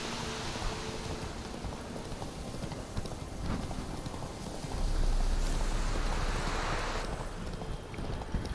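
Roach the horse gallops through rain in The Witcher 3, a steady rhythmic clip-clop of hooves under a wash of rain and wind that swells louder midway.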